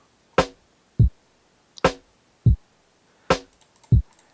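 An unprocessed, dry drum sample plays in a sparse pattern: three crisp snare-like hits alternating with three deep kick thuds, about six sharp separate strikes with clean silence between them.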